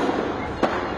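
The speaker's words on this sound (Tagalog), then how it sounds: "Umaalingaw-ngaw ang sunod-sunod na paputok kahapon ng tanghali" Firecrackers explode at a fireworks factory in Barangay Babag, Lapu-Lapu City, Cebu: a continuous crackling roar with one sharp, loud bang cutting through near the middle.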